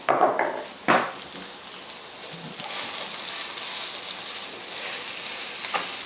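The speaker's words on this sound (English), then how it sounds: "We'll get it all in there, and I'll just stir it around a little bit." Onions fry in a pan and are stirred, with a few sharp scraping clatters at the start giving way to a steady close sizzle, with no talk.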